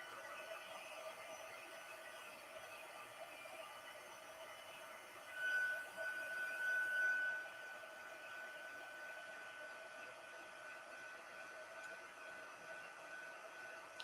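A heat gun blows a steady, even hiss while melting embossing powder on a handmade mosaic-style card, the faint continuous whoosh holding level with a brief louder swell midway.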